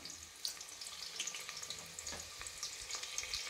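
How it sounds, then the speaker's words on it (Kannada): Onions for avarekalu tomato pulao frying in hot oil with pulao leaf, a steady close sizzle with scattered crackles and light stirring, heard alone with no voices. "ಈರುಳ್ಳಿ ಹಾಕ್ಕೊಳ್ತಾ ಇದ್ದೀನಿ."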